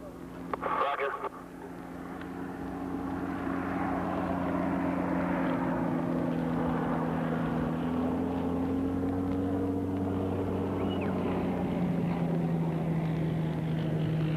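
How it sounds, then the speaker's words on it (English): A propeller airplane flying in with supplies to a remote wilderness camp, a steady droning engine hum that rises and holds for many seconds, with a brief clatter near the start and no talk over it. "It was good to see the airplane."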